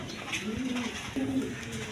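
Two drawn-out coos from house pigeons among a mixed collection of fancy breeds, near and moderately loud, the second following the first after a brief pause over steady background noise.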